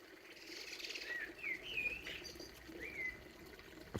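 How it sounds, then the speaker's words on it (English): Blackbird singing in a garden, several clear fluting whistled phrases with pauses between them, at moderate distance over faint outdoor background noise, no talk. "I've stopped talking because the blackbird sounds great."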